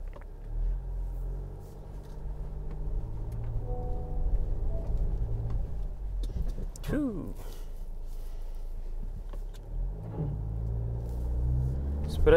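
A Škoda drives slowly up a steep hill with a low, steady engine rumble, pulling away after a stop on the steepest part; someone speaks over the sound throughout.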